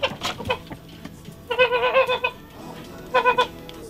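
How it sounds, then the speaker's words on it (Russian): Farmyard hens bask in spring sunshine, giving a few short clucks early on, then two bursts of higher, drawn-out cackling calls close by, with quiet pauses between. "Наши курочки тоже радуются весеннему солнышку."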